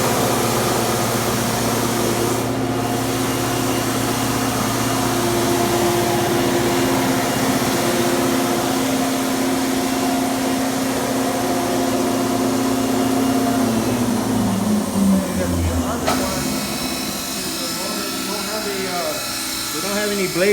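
The motor of a Griggio GT-4 single end tenoner woodworking machine runs with no blades fitted, a loud, steady electric whine and hum that winds down near the end while a person talks over it.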